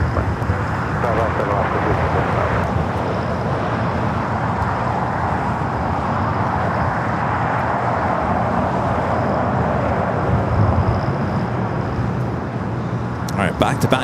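A Boeing 787 Dreamliner departing Los Angeles airport gives a loud, sustained broadband jet roar that swells and holds for many seconds, with a voice talking over it.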